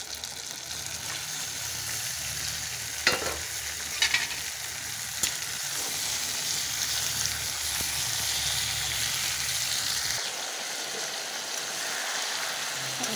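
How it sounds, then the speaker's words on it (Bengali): Rooster meat with chopped tomato fries in a pan, a constant close sizzling hiss with occasional clinks and scrapes of stirring, the frying settling to a softer bubble near the end; no talk. "এটাও অল্প একটু নেড়ে এবারে দিয়ে দেবো মাংস"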